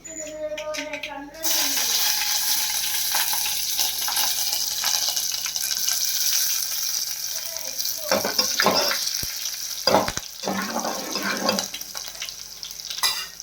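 Black pepper, garlic and dried red chillies frying in a hot tempering for pepper rasam, a steady close sizzle with stirring clatters after a brief opening, and no talk.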